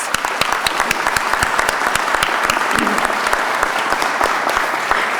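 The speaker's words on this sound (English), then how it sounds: "We should give them a round of applause." Audience applause fills a police academy graduation ceremony, a dense, steady clapping from a large crowd that holds at full strength throughout without any talk.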